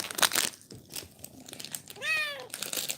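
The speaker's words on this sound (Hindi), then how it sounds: "ये बिल्ली कहाँ से आई?" A house cat gives a single clear meow with a rising and falling tone, close by, near the end of a stretch of crinkling and handling noises indoors.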